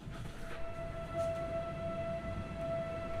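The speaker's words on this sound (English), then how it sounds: "I think I hear the weather siren outside." A distant outdoor storm-warning siren holds a steady drawn-out tone, faint and far off over a low rumbling background during a storm.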